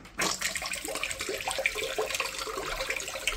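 Eheim internal aquarium filter running in a sink, pushing out a steady splashing, bubbling stream of water that churns the surface, heard alone and fairly close.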